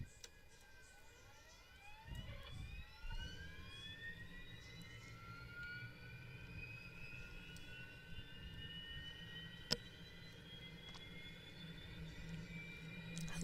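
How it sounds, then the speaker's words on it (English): On a FedEx Boeing 727 freighter, the auxiliary power unit winds up with a rising whine that climbs steadily in pitch over a low rumble, heard faintly from inside with a single sharp click midway. "Okay, let's get the APU on."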